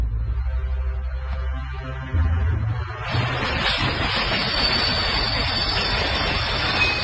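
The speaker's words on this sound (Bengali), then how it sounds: "স্টেশনে ট্রেন থামতে না থামতেই যাত্রীদের মধ্যে হুলস্থুল বেঁধে গিয়েছিল।" A train pulls into a station in a Bengali radio story: a low, steady rumble for about three seconds, then a loud, continuous hiss of brakes or steam that lasts to the end, with no voices.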